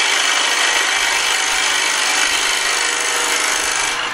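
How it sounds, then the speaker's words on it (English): A hand scraper shaves wood on a spinning lathe, a loud, steady abrasive hiss that holds constant and close throughout, with no talking. "And once again, you can scrape the whole thing."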